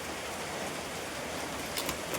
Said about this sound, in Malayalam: കണ്ടോ മഴയാണ് നമ്മുടെ കാലാവസ്ഥ മഴ